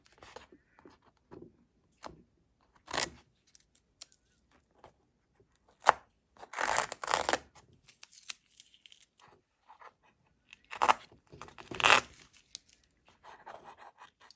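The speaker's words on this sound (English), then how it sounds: "I'm going to take my tape off." Masking tape pulled off a machine-embroidered piece in several quick tearing strips with pauses between them, close and fairly quiet, with no talking.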